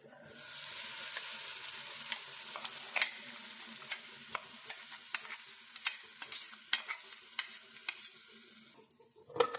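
Ground mango masala with turmeric sautéing in oil over a low flame, soft continuous sizzling with frequent sharp clicks and scrapes of a spoon stirring against the pan, fairly quiet and close.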